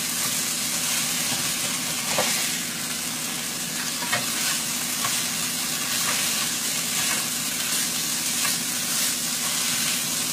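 Broccoli sizzles and fries steadily in a hot pan for chicken lo mein, with occasional stirring scrapes and clinks over a constant hiss of frying and steam.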